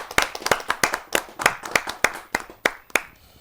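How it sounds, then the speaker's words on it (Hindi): Sharp, separate hand claps ring out in a steady rhythm at a Hindi kavi sammelan poetry gathering. About a dozen crisp claps come close to the listener, with no crowd wash behind them. "आप सबकी जोरदार तालियों के माध्यम से"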